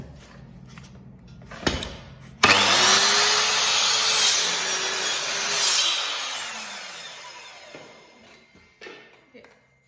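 A power saw cuts through a wood panel for a wainscot base, starting abruptly after a few quiet knocks and running loud and steady for about five seconds before winding down, with faint handling noises at the end.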